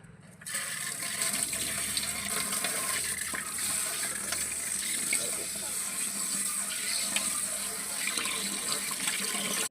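A tap runs water steadily into a wash basin as it is washed with a brush, a close, constant splashing rush that starts after a brief quiet moment and continues to the end.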